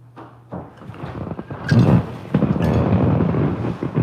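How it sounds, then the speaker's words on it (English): A door is shut indoors, with a sliding thud and rattle followed by rustling and handling noises, fairly loud and close. "Close this door."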